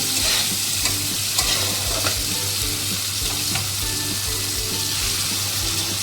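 Frying fish masala of tangra fish sizzles loudly and steadily in a pan, close up, with watery bubbling and rhythmic stirring scrapes mixed in as water goes into the masala.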